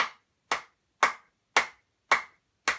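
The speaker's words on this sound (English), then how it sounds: "if we clap in different ways, we get different sounds. So if you put your hands together like this" Six single hand claps, each sharp and close, struck about half a second apart in an even rhythm with silence between them.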